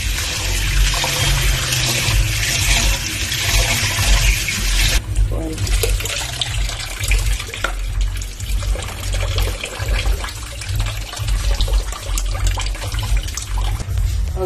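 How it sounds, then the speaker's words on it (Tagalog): Glutinous rice being washed by hand in water gives continuous sloshing, trickling and pouring sounds, close and fairly loud, with a person talking over it. "Atong pilisan ang atong bugas na pilit, guys, pilisan o hugasan."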